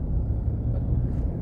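Dense rush-hour road traffic on a busy Makati street, a thick, steady low rumble of many engines close by with no break.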